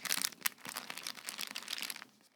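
Paper in a planner notebook crinkles and crackles in a close, busy burst of rustling for about two seconds, fading out at the end.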